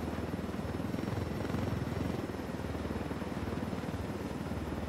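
Helicopter rotor chopping steadily at close range in the video game Ghost Recon Wildlands, a continuous rhythmic thump with engine drone that swells slightly midway.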